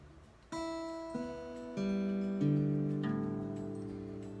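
An acoustic guitar plays its strings one after another, each note ringing on and layering into a clear, in-tune chord that sustains and slowly fades.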